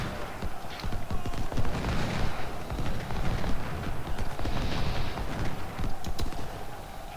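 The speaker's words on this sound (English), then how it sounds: "The canister fire is what finally broke him." Artillery canister fire in an Antietam battle video game: a dense, continuous crackle of rapid gunfire-like pops and low booms over a constant rumble, busy and loud throughout.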